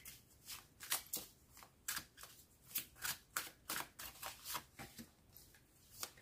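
Tarot cards shuffled by hand for a card reading, a close, quiet series of about a dozen rhythmic riffling snaps at an even pace, with no talk.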